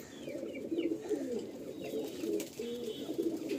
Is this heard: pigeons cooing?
yes